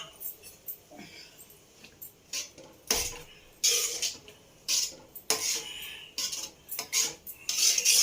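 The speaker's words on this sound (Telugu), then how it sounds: "లాస్ట్లో కొంచెం నెయ్యి వేసుకుందాం. కొంచెం అంత వేసి కలుపుకొని తీసేసుకుందాం." A spoon stirs ghee into ridge gourd dal in a metal pot, giving a series of quiet scraping and clinking strokes against the pot, irregular and close, with no talk.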